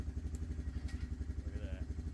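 Honda Recon ATV engine idling steadily with a rhythmic low thrum, up close, with a brief clunk as it is shifted into reverse.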